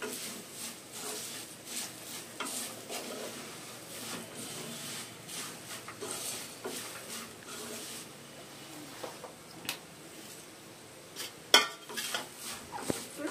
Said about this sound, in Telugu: అయిపోయింది బెండకాయ ఫ్రై, బౌల్లోకి షిఫ్ట్ చేసుకున్నాం.